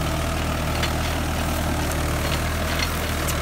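A Mahindra 585 DI XP Plus four-cylinder tractor pulls a plough through a field, its diesel engine laboring in a loud, continuous low drone with the revs sagging under load, close and unbroken, no voices.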